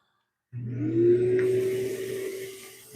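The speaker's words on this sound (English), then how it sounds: "I like to vacuum some of this stuff out of the way" A vacuum cleaner sucks up wood shavings in a woodturning workshop, starting abruptly and then running as a steady, loud whirring drone with a low hum beneath it.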